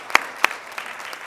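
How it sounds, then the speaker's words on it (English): Brief scattered clapping at a race, equity, diversity and inclusion commission meeting, a few sharp isolated claps rather than full applause, fairly faint in a room. "I think all of those trailblazers right there need a round of applause right now"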